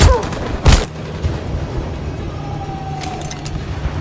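A single sharp gunshot rings out in the video game Detroit, loud and close near the start, followed by quiet, low ambient hum.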